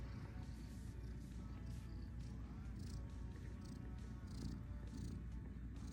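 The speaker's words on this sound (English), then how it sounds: "She is just purring up a storm" A cat purrs close by, a soft, continuous low rumble with faint rustling over it.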